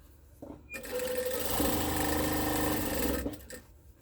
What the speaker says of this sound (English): we're going to sew these 2 together